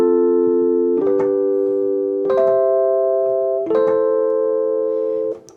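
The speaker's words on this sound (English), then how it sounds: "With the chords underneath, it would sound like this." A melody plays over sustained chords on a keyboard-like instrument, four held harmonic blocks changing every second or so, even and close with no voices.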